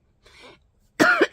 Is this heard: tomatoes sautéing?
no